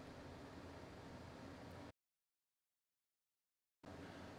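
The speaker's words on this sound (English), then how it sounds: "I have an AC running in my room and a fan going at the same time" Steady broadband hiss from an air conditioner and a fan running together in a bedroom, a constant noise floor that drops out to silence midway before returning.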